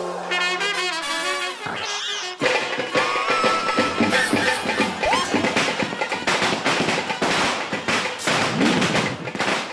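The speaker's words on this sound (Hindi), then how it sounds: "अरे ऐसे टाइम पे यहाँ पटाखे कौन फोड़ रहा है?" Firecrackers burst in a rapid, uneven string of loud cracks and thuds that keep going for several seconds, crowding the scene with noise.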